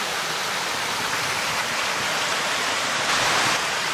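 A creek on a hot day flows and splashes steadily nearby, a broad, even rushing of water with no voices.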